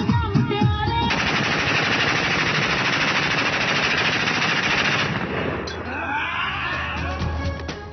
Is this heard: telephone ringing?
no